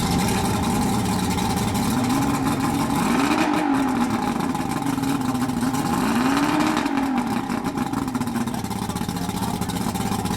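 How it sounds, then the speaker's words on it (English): Counter-rotating outboard engines on a Grady-White Sailfish boat run steadily and loudly nearby, their pitch rising and falling twice as they shift between neutral, forward and reverse, a constant heavy drone underneath. "These are counter-rotating engines."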